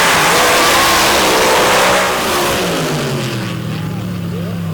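Two drag racing cars blast down the strip at a Missouri MRA championship event, engines roaring loud and close with a rising then falling whine as they pass, a commentator's voice running over the noise.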